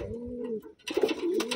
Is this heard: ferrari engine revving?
no